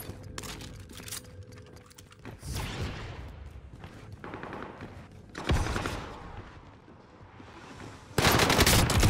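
Automatic fire from a Welgun submachine gun in Call of Duty on Rebirth Island, loud rapid bursts repeating across the clip and ending in a dense, louder volley.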